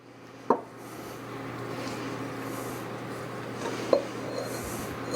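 Risen bread dough for baked lemon curd donuts dumped onto a floured work surface: a soft, dull thud, then a second faint bump a few seconds later over quiet kitchen room noise.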